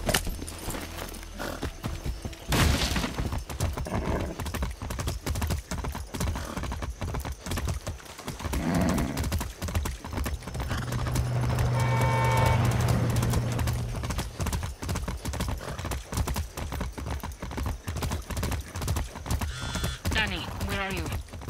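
A horse's hooves clip-clop steadily in the video game Far Cry 6, with regular rhythmic footfalls continuing throughout, a brief whinny, and someone talking over parts of it.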